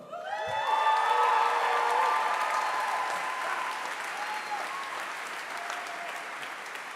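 Steady audience applause fills a hall during a university awards ceremony honoring staff, swelling early and then holding at a sustained level, with a few faint whoops and a soft voice briefly underneath.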